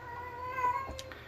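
A cat gives a single drawn-out meow indoors, moderately close and clear against a quiet background hum, with no talk.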